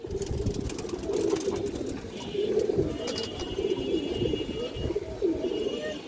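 Pigeons coo repeatedly in a loft where a khaki hen pigeon sits on eggs, a steady layered murmur of calls with a faint engine-like hum underneath.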